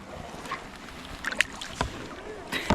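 Kayak paddle strokes in shallow mangrove water, a few soft splashes and drips spaced irregularly, close and fairly quiet over a light outdoor background.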